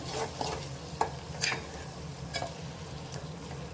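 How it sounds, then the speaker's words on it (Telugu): Onions being stirred with ginger garlic paste and turmeric in a pan for a tamarind leaf curry: soft sizzling beneath several scraping, tapping strokes of a spoon against the pan. "అల్లం వెల్లుల్లి పేస్ట్ వేసిన కొంచెం కలుపుకోవాలి"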